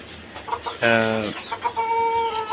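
Chickens on a modern rooftop farm atop a five-storey building give a loud, close cluck and a drawn-out squawk, followed by softer clucking and calls as the flock stirs.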